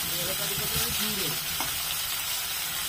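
Phasa fish frying in oil, Balasore style, makes a loud, steady close-up sizzle with bubbling crackle, while a voice briefly hums or speaks faintly underneath at the start.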